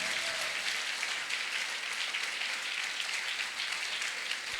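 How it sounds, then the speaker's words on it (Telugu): A congregation at a Christmas church celebration claps together in a steady, even wash of applause, moderately loud, with no speech over it. "చప్పట్లు, అందరం కూడా చప్పట్లు."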